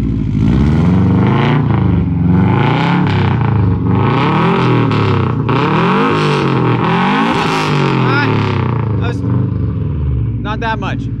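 A car engine revs repeatedly in loud rising and falling sweeps, close by, with brief voices near the end.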